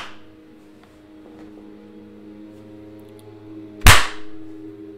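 A hand smacks something once, a single sharp loud slap near the end, while music plays quietly in the background.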